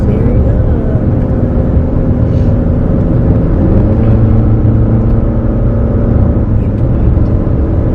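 A car cruising on a highway through Washington's North Cascades in clearing fog gives a loud, steady engine and road drone inside the cabin, unbroken throughout with a slight shift in pitch midway.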